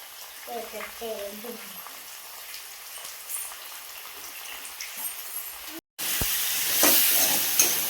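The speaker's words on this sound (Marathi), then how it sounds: "सगळं कांदा टोमॅटो ह्याच्यात अद्रक लसूणची पेस्ट पण टाकली बरं का" Onion, tomato and ginger-garlic paste hit a hot pan for stuffed brinjal, bursting into a loud, bright sizzle after a brief pause, with a voice talking over the kitchen beforehand.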